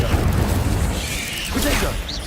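Incendio fire spell cast in the video game Hogwarts Legacy, a loud dense whooshing burst and roar of flames amid game combat noise, with a voice calling out spells over it.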